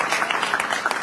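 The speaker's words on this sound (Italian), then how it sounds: "un applauso particolare lo dobbiamo fare alla nostra consigliera Lucia" A crowd at an inauguration ceremony in Taormina claps for a councillor, a dense, continuous patter of many hands that stays steady and fairly loud through the short stretch.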